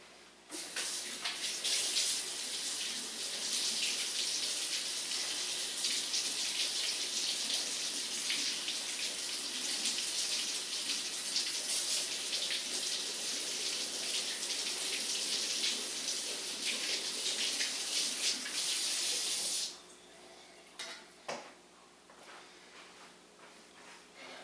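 Tap water runs steadily over a pan for about twenty seconds, a loud continuous hiss and splash close by, then cuts off, leaving a few faint clinks and drips.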